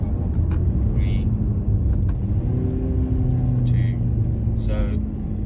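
Engine of a 2014 Volkswagen Golf 1.6 TDI BlueMotion with DSG gearbox rising in pitch through a manual downshift around 4,000 RPM, a steady in-cabin drone with tonal sweeps and brief shift breaks under continuous loud rumble.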